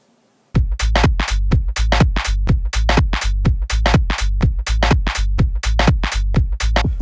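An OP-1 synthesizer plays a bounced one-bar house loop: a loud, steady run of punchy beats over a sustained low bass, starting after a brief silence and repeating evenly, with no voices.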